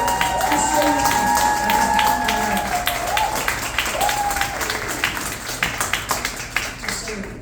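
Audience applause at a ceremony announcing Black Entrepreneurship Ecosystem Fund recipients: sharp scattered claps, with some voices and calls mixed in early, thinning slightly toward the end.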